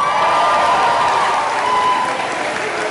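A school poetry slam audience applauds as a middle-school competitor is introduced and stands, a loud, dense burst of clapping with a little cheering that fades slightly toward the end.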